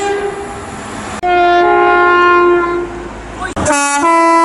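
A loud, close two-tone train horn sounds in long sustained blasts, pausing briefly and then cutting back in with a sharp, higher chord near the end.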